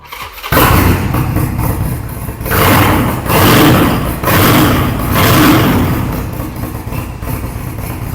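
A 2018 Harley-Davidson XL1200C Custom with an Arlen Ness full exhaust starts and runs up close, its loud, throaty engine rising and falling through several revs over a steady idle.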